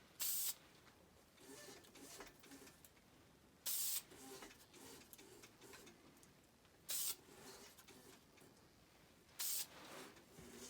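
Four short, bright hissing bursts of a spray bottle misting onto a wood-turned laminated bowl, evenly spaced a few seconds apart, over a quiet background hum.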